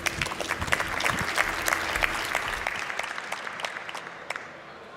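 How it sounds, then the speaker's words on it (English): Audience at a startup conference's Founder Stage applauding to welcome speakers, steady clapping with crisp individual claps that gradually thins and fades toward the end, with faint talk underneath. "Give a big round of applause."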